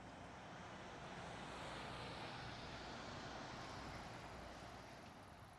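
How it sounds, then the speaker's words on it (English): An Air Europe Boeing 737 taxiing at Amsterdam Schiphol airport, a faint, steady broadband jet engine rumble and hiss heard from a distance, continuous throughout with no voices. "I see Air Europe taxiing"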